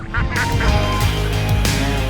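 A flock of ducks honks and quacks loudly and close by as they are herded through water and mud, with a dense overlapping chorus of calls.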